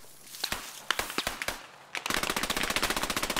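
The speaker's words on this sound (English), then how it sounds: "Keep that machine gun fire up." Machine gun fire in the Post Scriptum video game on the Colmar map: a few scattered shots at first, then from two seconds a steady, rapid burst of closely spaced rounds, loud and near.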